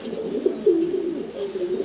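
Pigeons in a Cuban breeders' loft coo in a steady, low, rolling murmur with a few brief swells, close by, with faint higher chirps now and then.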